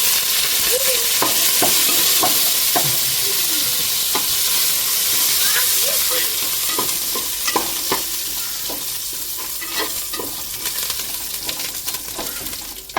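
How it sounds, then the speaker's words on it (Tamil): Curry leaves crackle and sizzle in hot oil in a frying pan while tempering for a fish curry, with a steady hiss and scattered stirring clicks throughout, close by and without talk. "இப்போ கருவேப்பிலை சேர்த்துக்கிறோம்"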